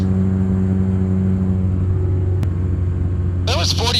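Quicksilver GT500 ultralight aircraft engine holding a steady 4,500 RPM cruise, a loud continuous droning hum with strong low harmonics; near the end a voice speaks over it.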